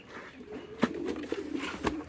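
Pigeons coo softly at a village pigeon market, a few low throaty coos in a brief, fairly quiet snippet.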